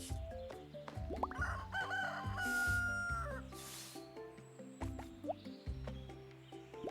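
Chickens cluck and one crows inside a coop in the video game Roots of Pacha, with repeated close calls over a stepped background music track.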